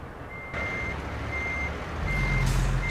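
Reversing beeps from a truck in the video game American Truck Simulator, a steady repeating electronic tone over a loud engine rumble that swells toward the end, with no talking.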